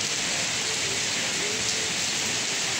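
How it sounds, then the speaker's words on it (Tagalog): Heavy rain pours down steadily during a flooding downpour, a dense, loud, unbroken hiss with no pauses. "Mas matindi tong ulan na to kaysa dun sa mga nakaraan."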